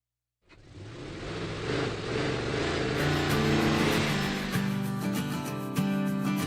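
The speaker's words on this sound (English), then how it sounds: "Monster truck." A monster truck engine in a vehicle game starts up and revs loudly and steadily, its roar building and holding with surging pitch changes.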